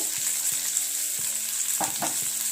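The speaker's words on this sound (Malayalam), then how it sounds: "എന്നിട്ട് നല്ലതായിട്ടൊന്ന് നമുക്ക് വഴറ്റി കൊടുക്കാം." Capsicum and carrots sauté in a hot pan for chicken noodles, a steady bright sizzle under repeated scraping strokes of a spatula, with no voices.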